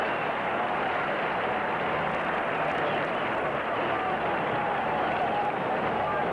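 A stadium crowd at an NFL game between the Denver Broncos and Pittsburgh Steelers applauds a career receiving milestone for Stallworth, making a steady, dense wash of clapping and crowd roar that holds at a constant level throughout.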